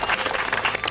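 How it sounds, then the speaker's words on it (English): Audience applause from a crowd at a surprise reveal event, a dense, steady burst of clapping lasting under a second. "Let's give them a round of applause"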